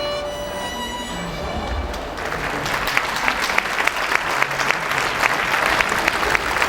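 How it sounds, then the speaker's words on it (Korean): Passers-by applauding a violin duo performing on the street, the last notes of the violins giving way to a growing burst of outdoor clapping from a gathered crowd that continues to the end. "시민들에게 박수까지 받습니다"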